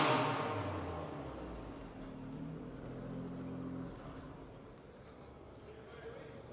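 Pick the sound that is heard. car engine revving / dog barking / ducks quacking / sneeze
car engine revving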